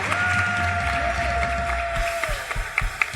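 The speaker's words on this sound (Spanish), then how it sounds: "Dale un aplauso al Señor" Church congregation applauding the Lord during a sermon, a continuous mid-level patter of many hands with sustained tones from music or singing over it, thinning toward the end into scattered claps.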